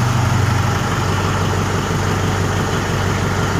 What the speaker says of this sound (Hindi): देखिए क्या बेहतरीन आवाज़ है ट्रैक्टर की।